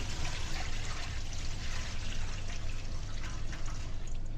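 Washing water is poured off rice being rinsed for Persian steamed rice with tahdig, a steady, full splashing stream that runs close and unbroken for several seconds.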